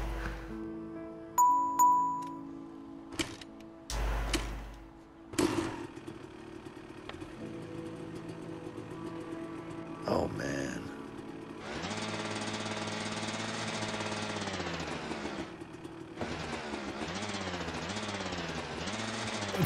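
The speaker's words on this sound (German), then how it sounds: "Ich soll die Maschine starten, Mensch." An engine being started in the video game A Way Out, first as scattered clunks and bursts, then settling into a steady, loud mechanical drone for the last several seconds, revving and wavering near the end.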